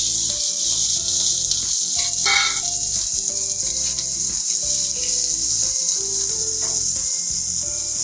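Chopped onions frying in hot oil for spicy Maharashtrian misal pav give a steady, bright sizzle that runs the whole time beneath louder melodic background music.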